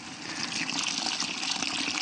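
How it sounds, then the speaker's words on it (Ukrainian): Hot water pours steadily into a Bordeaux mixture of copper sulfate and lime being prepared for garden spraying, a continuous close gushing trickle for the full two seconds with no talk. "Потрібно трошки долити гарячої води і продовжувати перемішувати."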